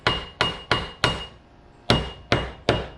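A hammer taps a part into a 1970 Appleby pop-up tent camper during restoration: seven sharp, close metallic knocks, four in quick succession, a pause, then three more.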